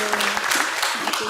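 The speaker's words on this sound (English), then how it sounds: "Give them a big applause." Steady clapping from a congregation at a Sunday Dharma service, brief and fairly close, a dense even patter of many hands with a faint voice underneath.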